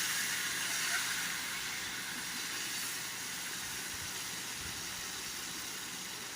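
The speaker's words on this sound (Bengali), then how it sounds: "এবার এটাকে পনিরটাকে ছেড়ে দিলাম, ম্যারিনেট করা পনিরটাকে ছেড়ে দিলাম।" Marinated paneer frying in white oil in a pan, giving a continuous soft hiss and sizzle at low level, steady throughout without talk.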